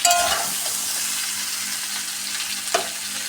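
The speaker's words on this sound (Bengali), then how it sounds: "আলুটা ভালো করে আগে ভেজে নিয়েছি, তারপরে ডাঁটাগুলো দিলাম" Potatoes and vegetable stalks frying together in a pan, a close, steady sizzle punctuated by a few sharp clinks and scrapes of a spatula, with no one speaking.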